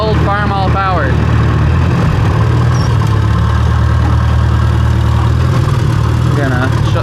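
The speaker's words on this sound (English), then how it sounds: "Can't beat good old Farmall power." A Farmall tractor engine idles steadily and loudly up close with its PTO running, a low constant rumble throughout, and a voice is briefly heard near the start and end.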